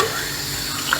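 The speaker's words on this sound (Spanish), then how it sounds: "Bueno, vamos a abrir el agua." Water runs steadily from a just-opened tap on a plumbing line after a water heater hose replacement, a loud, close, even rush lasting about a second with no speech.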